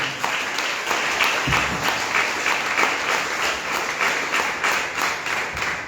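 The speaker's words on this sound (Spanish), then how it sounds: "¿Cuántos damos palmas al Señor en esta hora?" A church congregation claps together during a service, steady rhythmic hand clapping from many people filling the room at an even, fairly loud level throughout.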